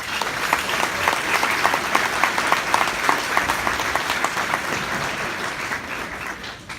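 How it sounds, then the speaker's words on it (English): Audience applause for nominated teachers at a chamber of commerce Teacher of the Year announcement: steady, dense clapping from a room full of people, sustained throughout at an even level. "they all deserve a big round of applause for at least being nominated."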